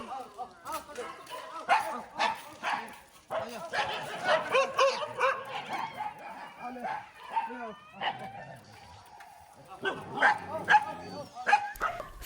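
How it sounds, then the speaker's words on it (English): Shelter dogs in Varanasi, India bark, yip and whimper excitedly at feeding time, a dense, continuous chorus of overlapping barks from several animals, close and fairly loud throughout. "Mealtime can be a bit of a scramble. The dogs get excited, and small fights occasionally break out."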